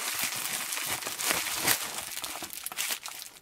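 Plastic foil wrapping on the parts of a 1/16 scale model kit being handled up close, a steady run of crinkling and rustling with sharper crackles, no speech.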